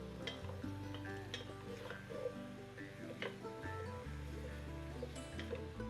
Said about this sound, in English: Let it saute those onions a little bit.